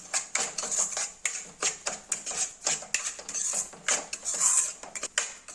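Semolina (bombay rava) being dry-roasted and stirred in a pan, heard as a steady run of close metallic scrapes and clinks from the spoon against the pan, repeating in quick rhythmic strokes with no talking.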